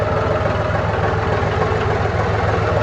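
A John Deere 5103 two-wheel-drive farm tractor engine idles and putters along in a low, steady, rhythmic diesel throb, close and continuous with no talk.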